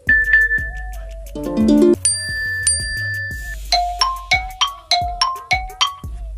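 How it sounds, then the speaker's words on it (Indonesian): A sequence of bright electronic chimes and ding-dong tones from an iPhone's WhatsApp chat notification options, several distinct short melodies played one after another, clear and close with no talking. "kita tinggal pilih aja nada dering untuk chat WhatsApp-nya."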